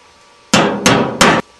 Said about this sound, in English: You'll need the hammer and chisel to begin the hole.